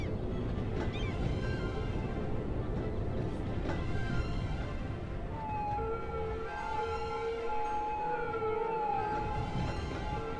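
An ambulance siren wails in the city-building game Cities: Skylines, a moderately distant, wavering tone that rises and falls over low traffic-like rumble, growing more distinct in the second half with no talking.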